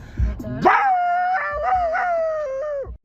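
A man imitates a dog howling, a long drawn-out wavering howl close and loud, rising then held with slight pitch wobbles before breaking off abruptly.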